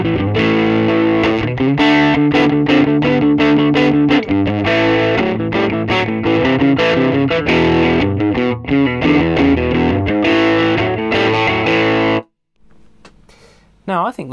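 An electric guitar played through a small Vox VS20C transistor amp set to distortion, giving a loud, dense, sustained crunchy tone with chords and riffs for about twelve seconds before cutting off abruptly.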